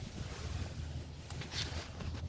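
Wind buffets a microphone outdoors in a steady low rumble with gusty surges and a brief hiss, heard alone with no voices.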